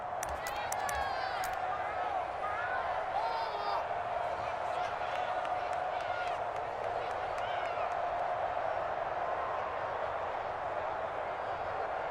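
A stadium crowd at a football game roars continuously, with whoops, whistles and clapping rising as the team lines up for a two-point try, while a commentator talks over the noise.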